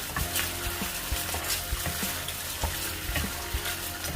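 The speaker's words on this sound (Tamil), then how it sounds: "டொமேட்டோ பேஸ்ட்டையும் போட்டு நல்லா மிக்ஸ் பண்ணிக்கொள்கிறேன். கொஞ்சம் போல் தண்ணி ஊற்றிக்கொள்கிறேன்" Tomato paste stirred with about a tablespoon of water in a hot pan for maqlooba rice, giving a steady close sizzle with scraping spoon strokes and small knocks throughout, no voices.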